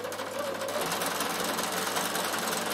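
A Bernina 7 series sewing machine straight stitching through thick wool with a punchwork kit, a loud, close, continuous rapid mechanical whir that runs unbroken throughout.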